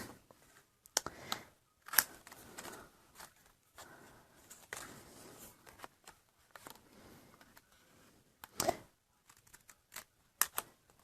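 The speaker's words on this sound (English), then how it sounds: "And so I just kind of work my way snipping around." Scissors snip around the die-cut front of a balloon pop-up card, with a scattered run of short, crisp cuts and rustles that come close and fairly quiet, with pauses in between.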